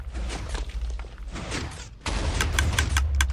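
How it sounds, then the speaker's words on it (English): Minecraft explosions sound as sharp, booming bursts in quick succession, with a louder, denser crackle of blasts toward the end. "After we hear 2 explosions"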